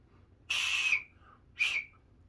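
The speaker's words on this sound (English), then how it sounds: "I call this a 4-cent whistle" A cheap small toy whistle, sold for about four cents, gives two shrill blasts close by: a longer one and then a shorter one, with quiet in between.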